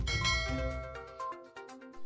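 A notification bell sound effect rings out as a short sequence of bright, chiming dings with ringing tones, quiet and alone.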